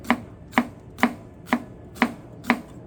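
A knife slices fennel or apple very thin on a cutting board for an apple fennel slaw, with six crisp, evenly spaced chops about half a second apart, close and alone with no talk.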